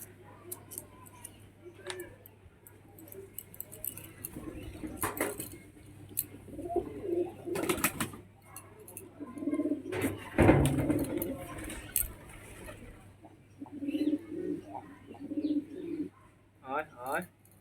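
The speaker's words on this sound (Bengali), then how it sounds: "এখানে যত পায়রা দেখছো তোমরা" Pigeons coo intermittently in a loft amid clattering, shuffling and occasional human talk, the calls coming in scattered low bursts.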